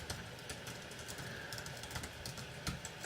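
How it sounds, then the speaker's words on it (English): Typing on a computer keyboard produces soft, quick key taps over a faint steady background hum, continuous and close. "and then I'm going to type in my email"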